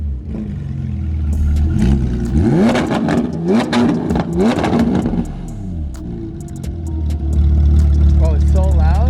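A Porsche sports car engine revs hard and loud close by in repeated rising and falling bursts, then drops to a rumbling idle before building again, with excited voices talking over it.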